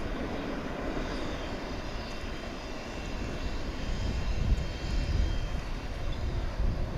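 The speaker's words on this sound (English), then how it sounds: "That is a 5-year-old Dreamliner touching down after a 9-hour and 36-minute jaunt from the southern hemisphere." A five-year-old Boeing Dreamliner airliner touches down at DFW with a broad, continuous engine roar at moderate distance that swells somewhat midway.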